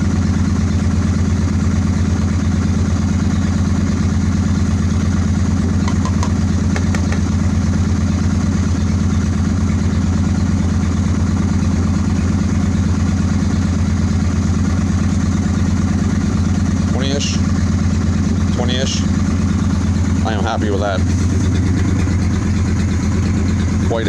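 Close, steady idle of a 2003 Honda Shadow Spirit 750 motorcycle engine after carb cleaning and synchronizing, an even low throb running continuously for the whole stretch.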